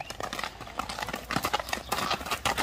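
Horse hooves clip-clopping in a steady, quick rhythm at close range, with some background noise underneath.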